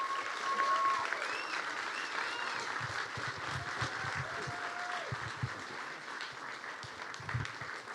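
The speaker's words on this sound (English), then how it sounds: "give a giant round of applause in appreciation for Tom" An audience at the Cal Poly CIE Demo Day 2025 gives a sustained round of applause for Tom, steady dense clapping held at an even level throughout, with a few faint voices and whistles threaded through it.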